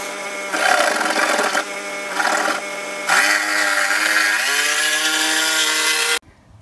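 High-quality jigsaw cutting chipboard, a loud, close buzzing cut that revs in bursts with short pauses, then runs continuously before stopping abruptly.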